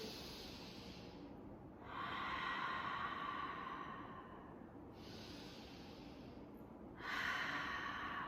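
Deep breathing during an entry-level movement exercise session: slow, loud, hissy breaths in and out, with about three long airy swells over a steady background.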